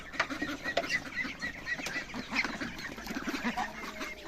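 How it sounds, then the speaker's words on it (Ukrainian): A flock of ducks and geese quacking and honking continuously, overlapping calls close by with no talking. "Добрий ранок, качки."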